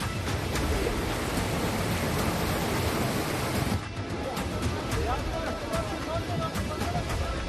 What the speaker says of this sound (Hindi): जहां नदी का शोर खौफ पैदा कर रहा है।